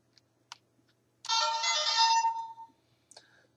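A Gokaiger Legend Mobirates toy gives a few faint clicks, then plays its standard electronic sound effect, a bright, tonal chime lasting over a second, followed by a short electronic beep.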